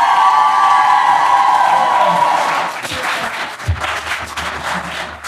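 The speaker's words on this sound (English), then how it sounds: "Give him a round of applause." Loud applause and cheering from a live audience at a comedy show, with dense clapping, whoops and crowd shouts that start strong, then thin into scattered clapping and voices.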